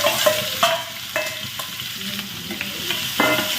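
Chopped onion, garlic and ginger frying and being stirred in a pan for dal tadka, a steady close sizzle broken by repeated scraping stirs, with no talking.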